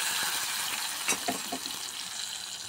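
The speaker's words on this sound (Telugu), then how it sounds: "పోపు ఏమో వేగిపోయింది." A hot tempering of spices sizzles as it is poured into a tangy mango dal, a brief crackling burst of spitting and hissing over a soft steady background.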